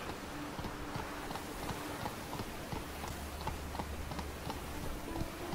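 Roach, a horse in The Witcher 3, gallops with a steady run of hoof clip-clops over a continuous low ambient bed, no speech.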